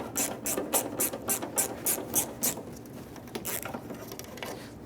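A 1/4-inch drive ratchet with a 10mm socket clicks rapidly in quick bursts while loosening a headlight bolt on a 1994-2001 Dodge Ram 1500, close and crisp with short pauses between strokes.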